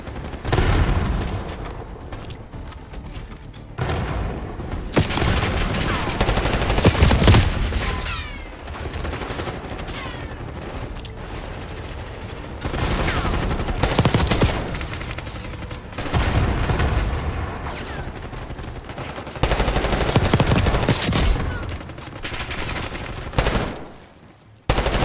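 Gunfire in a first-person shooter video game arrives as loud bursts of rapid automatic fire and booming shots, separated by brief lulls, with dense overlapping blasts throughout.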